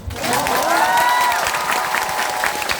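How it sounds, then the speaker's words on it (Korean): An audience in a large auditorium at a talk concert in Incheon's Bupyeong district breaks into steady, dense applause. The clapping is loud and sustained, with a faint voice briefly over it. "재밌어 박수 한번."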